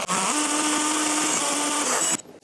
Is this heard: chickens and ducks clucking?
no